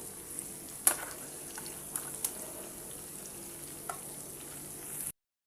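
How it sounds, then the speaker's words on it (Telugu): Stuffed bitter gourds frying in a pan give off a steady, low sizzle, with a few faint scrapes and clicks as they are gently turned. "ఇప్పుడు వీటన్నిటిని చిన్నగా ఇలా తిప్పేసుకోండి"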